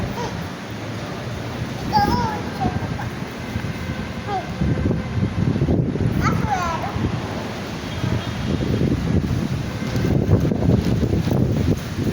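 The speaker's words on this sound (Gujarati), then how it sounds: "જો વાયરો વાવાઝોડું જોરદાર છૂટ્યું હતી." A strong gusting wind buffets the microphone outdoors, a loud continuous roar that rises and falls throughout, with children's voices and chatter heard faintly over it.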